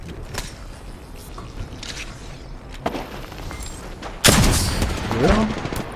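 Bursts of gunfire from a Valorant match, with scattered shots early on and a loud, dense volley near the end, mixed with game sounds and brief voice lines.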